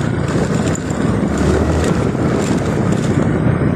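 Steady engine drone mixed with heavy wind buffeting from a Suzuki Skydrive Crossover scooter riding along a road, loud and continuous with no talking.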